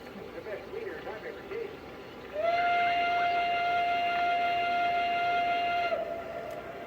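A steady steam whistle from a Lionel Legacy Pennsylvania Railroad B6 0-6-0 switcher toy train blows for about three and a half seconds, a clear sustained tone over a faint background hum.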